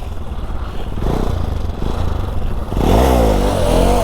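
Motorcycle engine being revved hard on the throttle during wheelie practice, a steady close drone that surges louder and rises in pitch partway through, with faint clatter.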